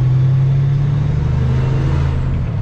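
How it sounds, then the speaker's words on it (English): A truck engine rumbles steadily through its exhaust pipes, a loud, even low drone that holds close and constant without talk. "you gotta be able to hear the engine"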